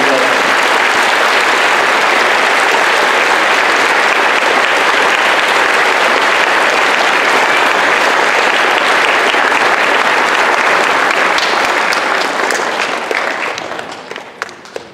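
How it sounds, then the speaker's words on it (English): Loud, sustained applause from a school assembly crowd honoring veterans at a Veterans Day event, a dense wash of clapping that holds strong before thinning out and fading in the final seconds. "Please give them a round of applause."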